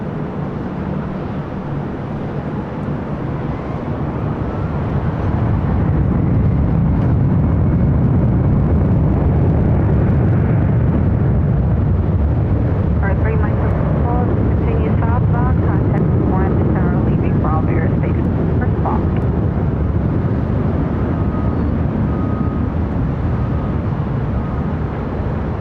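A Boeing 787-9 Dreamliner takes off from LAX, a loud, steady jet roar that swells after a few seconds and holds throughout, with faint radio chatter layered over it.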